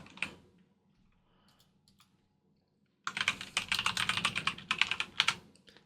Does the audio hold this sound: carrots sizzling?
no